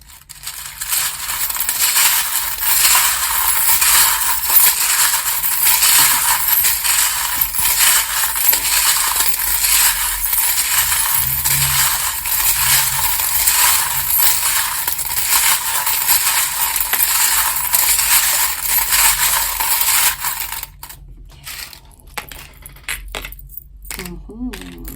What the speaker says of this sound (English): if you don't like the sound of the charms, please turn your volume down now